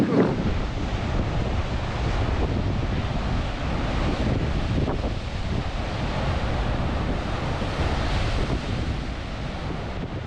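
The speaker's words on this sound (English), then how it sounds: "the waves collide with a rugged coastline and they're met with numerous caves and crevices" Atlantic waves crash and surge against rugged volcanic cliffs and caves at Los Hervideros on Lanzarote, a steady roaring wash of surf mixed with strong wind buffeting the microphone.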